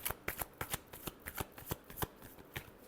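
A deck of tarot cards shuffled by hand, producing a quick run of crisp riffling snaps and soft flicks at an irregular rhythm, close and fairly quiet, with no voices.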